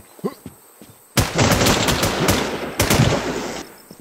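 Gunfire in the video game Infestation WarZ: a loud, dense burst of rapid automatic shots runs for over two seconds, with separate sharp cracks standing out inside it. A short, softer stretch comes before the burst.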